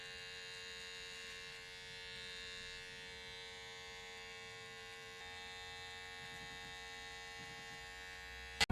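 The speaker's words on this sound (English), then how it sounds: "We are lightly working up with the clipper inverted." An electric hair clipper, held inverted and worked lightly upward during a men's haircut, gives a steady close buzzing hum that runs unbroken throughout.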